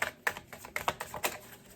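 Slick tarot cards being shuffled by hand, heard as a quick run of soft, close, irregular flicks and snaps with no talking.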